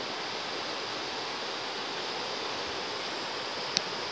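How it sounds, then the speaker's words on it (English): River rapids rush in a steady, broadband wash of flowing water, close and continuous, with one brief sharp tick near the end. "The rapids of this river."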